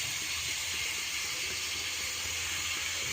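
Meat frying in a pan, giving off a steady, dense hiss of sizzling that holds level throughout without a break.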